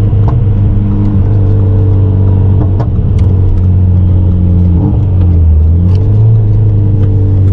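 A Renault Mégane RS 300 with a full straight-through exhaust accelerates, its engine a loud, steady low roar with the pitch climbing late on and no voices over it.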